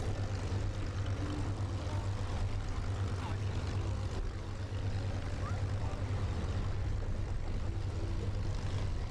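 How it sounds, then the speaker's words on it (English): A Yak two-seat radial-engine training aircraft runs in at an air display festival, its steady low engine drone continuous and fairly loud throughout, with a commentator's voice faintly present over the noise. "Here we've got this wonderful two-seat radial engine training aircraft."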